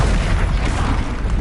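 A Bombardo spell blast in the Hogwarts Legacy video game, a loud, dense, sustained rumbling boom that fills the whole moment with low-end roar and no speech.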